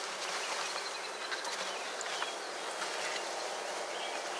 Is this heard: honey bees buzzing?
yes